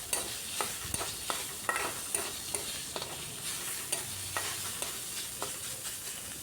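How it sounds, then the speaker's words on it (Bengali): Paneer and coconut filling frying in a pan, with a steady sizzle, a spatula scraping and stirring in regular strokes, and no talk. "খুব ভালো করে ভাজা ভাজা করে নিলাম।"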